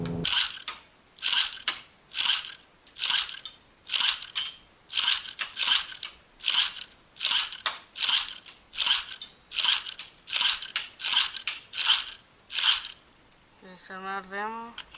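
Steady run of sharp plastic clicks, roughly two per second, as BBs are pushed one by one into the magazine of an H&K P30 electric airsoft pistol, close and alone, with a brief voice at the end.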